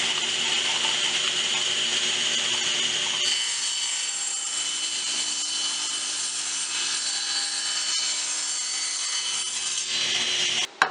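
A power saw fitted with a 1/8 inch blade runs loud and steady while cutting wood, with a high whine and a shift in tone partway through as the cut proceeds.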